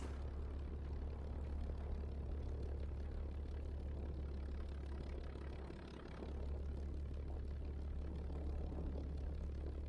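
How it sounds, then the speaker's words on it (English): A propeller plane's engine idles in the War Thunder video game, a steady low drone with a constant hum that stays fairly quiet and even, dipping briefly near the middle before resuming. "The engine on this compared to the jet seems a bit quiet."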